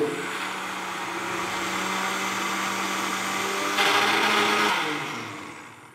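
A mixer grinder whirs steadily as it blends mango pulp into a smooth paste inside a mixie jar, a loud continuous motor drone that shifts pitch slightly near the end before winding down.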